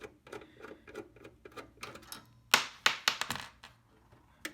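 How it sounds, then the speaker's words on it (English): Screws being taken out of an OptiPlex 7010 desktop computer case, with a run of small close clicks and taps followed by a few sharper metallic clinks and rattles, quiet with no talking. "remove these screws"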